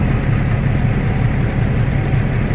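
A truck engine idles while building air pressure on a farm near grain bins, a loud, steady low rumble with constant vibration, close and alone without talking.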